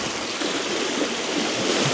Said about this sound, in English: just to try and calm down some of this water that's cascading over the rocks